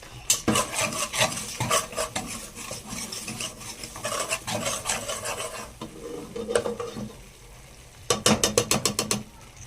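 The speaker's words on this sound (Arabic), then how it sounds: "ناخد دي نشتغل بالمضرب" A whisk beating ingredients in a bowl: rapid, rhythmic scraping clatter in fast bursts, close and steady, easing briefly before a final quick burst of beats.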